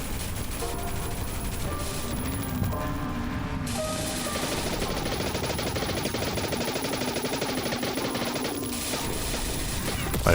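Sustained machine-gun fire in the sci-fi shooter Beyond Citadel, rapid bursts running steadily throughout, loud and dense with a low hum and occasional game effects beneath.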